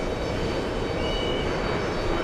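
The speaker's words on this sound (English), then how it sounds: "Emirates is on final approach." An Emirates airliner on final approach at JFK airport, heard as a loud, steady, broad jet engine roar with no break, with no one talking.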